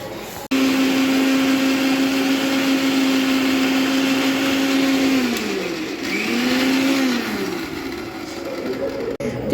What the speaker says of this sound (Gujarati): મિક્સરમાં ક્રશ કરવાનું છે